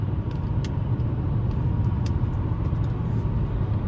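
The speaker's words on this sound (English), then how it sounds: "But there we are, 6th gear, cruising there." A 2015 Chevrolet Malibu LT with the 2.5 engine cruises in sixth gear up a slight incline, giving a steady low road-and-engine rumble inside the cabin with faint ticks and no talking.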